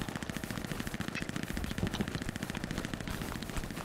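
Rapid rifle fire from an M1 in a wartime video game, a fast string of sharp cracks repeating steadily throughout at moderate loudness, with no talk.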